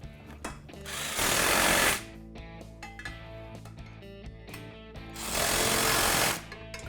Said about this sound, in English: with a 9/16 socket, we'll tighten down the bolts